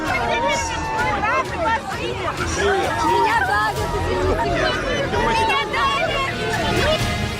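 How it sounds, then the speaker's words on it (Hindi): A dense, excited crowd gathered around Vladimir Putin in Dagestan, Russia, with many overlapping voices shouting and chattering close by in a continuous loud babble. "जब पुतिन रूस के स्टेट दागिस्तान पहुंचे तो भीड़ लग गई।"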